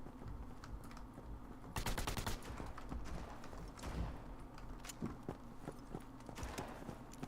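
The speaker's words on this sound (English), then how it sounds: "They're shooting at someone down there, or someone down there is shooting at them." Distant bursts of rapid gunfire in the video game Shattered Skies, scattered clattering volleys rising over a constant background hum, fairly faint and without speech.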